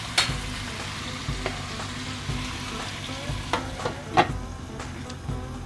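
Tomatoes for chicken biryani cook in a covered pot, giving a soft, continuous sizzle with scattered sharp pops and clicks, faint and close.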